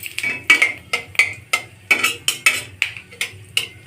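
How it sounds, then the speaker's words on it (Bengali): Whole cumin, cardamom, cinnamon, bay leaves and a dried chilli go into hot oil for tempering, heard as a steady series of sharp metallic clinks and scrapes of a utensil against the pan, evenly paced and close. "তেল গরম হয়ে গেছে, দিয়ে দিব একটি শুকনো মরিচ। ফোড়নে দিয়ে দিব আস্ত জিরে"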